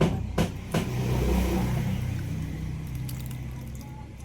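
Grated, very mature coconut is squeezed and kneaded by hand to press out its milk, giving a couple of soft, wet squelches near the start over a low, steady background rumble.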